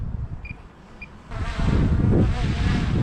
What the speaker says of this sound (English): We got a little bit of wind here.